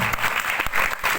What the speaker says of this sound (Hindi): बैठे और ठोके ताली हो जाओ यार, अरे साहब ठोके ताली हो जाओ।